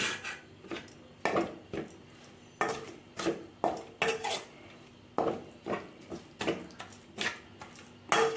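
Chicken gravy being fried and stirred in a pan with turmeric and salt, giving a steady series of scraping and clinking spoon-on-pan strokes in an uneven rhythm, close and moderately loud with no voices.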